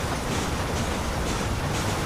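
Train passing in the Red Dead Redemption video game, a loud, steady broadband rumbling roar that continues unbroken with no speech over it.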